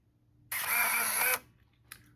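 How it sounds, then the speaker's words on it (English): A Kodak Medalist VR35 K14 film camera fires its shutter and drives its motorized film advance, a loud whirring mechanical burst of under a second, close up in a quiet room, followed by a brief click. "You'll hear the camera when it fires the shutter after this timer shut down."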